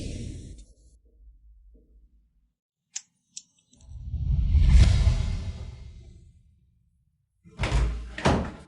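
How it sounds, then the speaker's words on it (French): A door opening in a drama scene: a few sharp clicks of the latch, then a broad rushing swing and thud, followed by louder knocking or closing sounds near the end, with no talk over it. "Ouvre la porte, Boss Meng."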